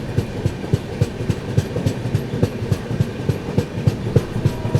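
The Andaman Express rolls along an Indian railway line with loud, regular clickety-clack wheel beats repeating close by throughout, with no voices.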